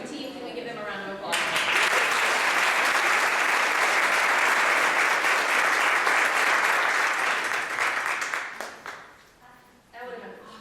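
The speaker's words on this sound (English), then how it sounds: "Can we give them a round of applause?" A dense, steady wall of audience applause fills a board induction for a regional realtors' association division, rising sharply, holding for several seconds, then tapering off, with a voice faintly present before and after.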